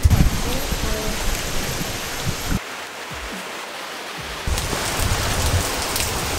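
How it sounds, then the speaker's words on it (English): Rain falls steadily near a cave shelter in Asia, a dense close hiss that thins briefly in the middle before returning at full strength, with a faint voice underneath. "It's raining and we're trapped."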